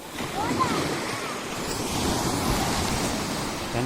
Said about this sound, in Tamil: பெரிய அலைகள்லாம் வருது, பெரிய பெரிய அலைகள்லாம் இருக்குது